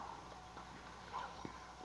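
Faint, soft horse hoofbeats in a Nintendo Switch video game, clip-clopping at a slow pace behind a steady background hum, no speech.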